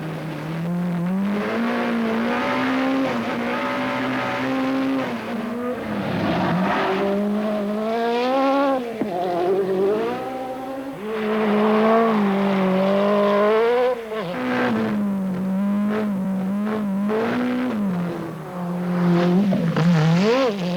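A Peugeot rally race car climbs Pikes Peak with its engine loud and close, revving hard in rising and falling sweeps as it shifts gears. There are occasional tire squeals and no voices.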